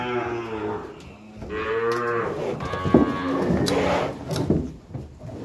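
A herd of beef cows gathered for vaccination moos in long, loud calls, one after another, close by with some overlap.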